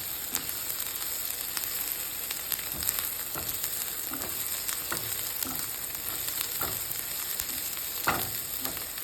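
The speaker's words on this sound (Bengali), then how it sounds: "পেঁয়াজটা একটু ভালো করে ভেজে নিতে হয়, এই কারণে যাতে একটা ফ্লেভার বের হয়।" Onion and garlic fry in a pan with a steady bright sizzle, and a few scattered utensil taps and stirs are heard close up.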